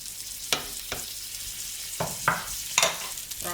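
Leftovers frying in oil and butter in a pan give a constant close hiss, with a few sharp spatters and stirring knocks scattered through it.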